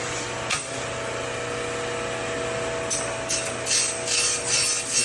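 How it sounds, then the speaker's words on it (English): Welds being cleaned off freshly joined sawmill blades at a wood mill, a steady rasping, grinding metalwork noise running throughout, louder in bursts toward the end, over low shop hum. "Just taking that exterior weld off of there."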